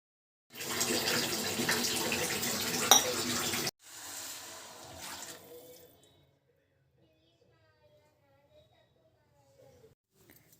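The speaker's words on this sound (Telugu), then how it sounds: "వాటర్ పోసేసాను కదా, మొత్తం ఒకసారి అలా కదిపి పెట్టేస్తాను" Water pouring into a cooking pot while making a prawn dish, a loud steady gushing stream for about three seconds, then a softer shorter pour that tapers off into near silence.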